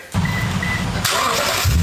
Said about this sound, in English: got to get the car out of the way